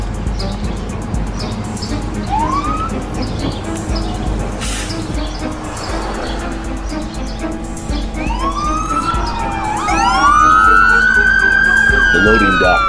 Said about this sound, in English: they heard the sirens of more and more police surrounding the perimeter